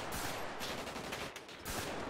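Rapid bursts of video game gunfire crackle in quick succession, dense and fairly faint, with no talking over them.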